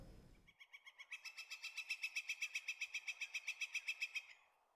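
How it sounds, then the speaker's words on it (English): Birds chirping outdoors at sunrise on a college campus, a fast, evenly spaced run of bright repeated notes that builds and holds for several seconds, fairly near and alone after a brief low rumble at the start. "The sun is rising and the birds are chirping."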